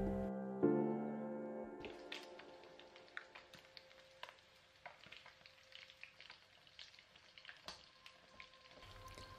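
Minced pork omelette crisping in a pan, a steady close sizzle with scattered pops and spatters; one louder clatter near the start, then continuous frying with occasional sharp crackles and no talking.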